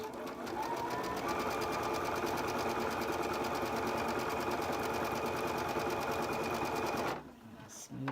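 A sewing machine with a quarter-inch foot stitches straight down a line on a quilt block, a steady fast mechanical whir running close and continuous for about seven seconds before stopping.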